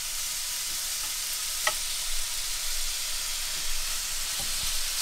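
Chicken fajita pieces sear in a skillet with a steady, close hiss and crackle of sizzling oil, plus a few faint scrapes and clicks.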